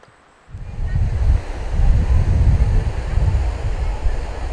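Strong, steady rush of water at Castle Falls, a waterfall; the broad low roar swells in after a brief quiet start and stays loud and continuous throughout.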